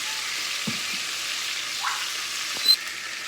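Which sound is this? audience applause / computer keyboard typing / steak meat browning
steak meat browning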